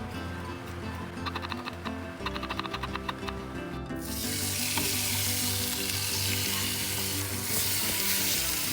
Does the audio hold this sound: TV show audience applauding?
no